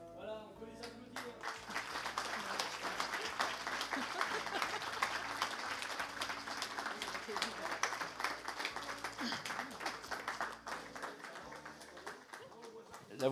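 A church audience applauds actors after a Christmas service play, steady sustained clapping throughout with a few voices mixed in.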